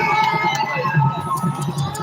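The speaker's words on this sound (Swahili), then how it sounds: "Wapi makofi ya Gavana Fernandez Baraza ya Kakamega County" Applause and cheering from a crowd at the inauguration of the Kakamega County governor, a steady, close, dense roar of clapping mixed with shouts.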